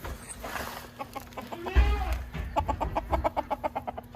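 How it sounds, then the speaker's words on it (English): Fluffy fancy chickens in a farm coop during a winter blizzard cluck and murmur nearby, building into a steady run of rhythmic clucks over a low background hum, with no talking. "So over here, we got all of Carrie's fluffy, fancy chickens."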